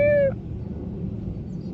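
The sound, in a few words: cat meowing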